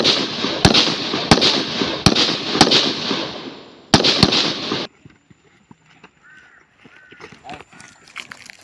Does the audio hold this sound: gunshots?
yes